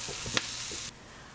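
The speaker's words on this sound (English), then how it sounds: "let's get our Brussels sprouts down in our pan" Brussels sprouts sizzling in a pan over heat set just above medium, a steady broadband hiss with a couple of stirring clicks, cutting off abruptly partway through.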